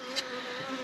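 Bees buzz steadily around a polystyrene hive, a close continuous hum with a faint brief higher buzz as one passes near.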